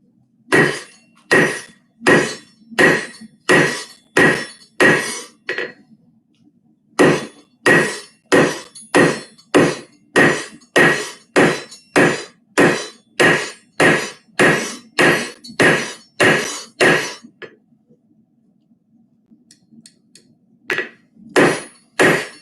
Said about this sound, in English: I can draw out this leaf a whole lot more effectively by using this part of the anvil.